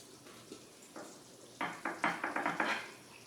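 A knife cuts through a Salisbury steak in gravy on a baking tray, giving a few soft scrapes followed by a quick run of six or seven sharp clicks against the tray, close and clear.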